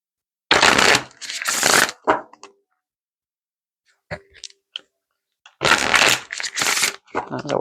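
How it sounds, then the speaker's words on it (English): Two bursts of cards being riffle-shuffled, separated by a quiet gap with a few small clicks and taps. "That was a weird shuffle."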